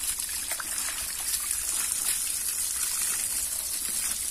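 Soft, continuous trickle of wash water running into a small irrigation channel that carries it to plants on a rural farm plot, close and steady with no talking.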